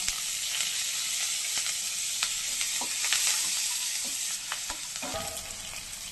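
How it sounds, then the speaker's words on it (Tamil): Asafoetida and curry leaves crackle in hot oil for a tempering, a steady loud sizzle broken by sharp pops and spatters, with a spoon stirring now and then. "இது நல்லா பொரியட்டும்."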